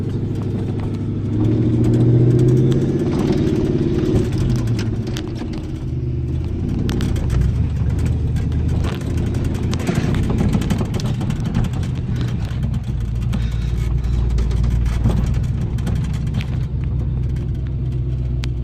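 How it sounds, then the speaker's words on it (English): A 1984 GMC Sierra Classic pickup with a manual transmission accelerates from inside the cab, its engine rumbling and rising in pitch, then dropping as it shifts into the next gear and pulls again, loud and continuous with no talk. "once you get at certain RPMs, which we'll do here in a second, you want to go ahead and shift into the next gear."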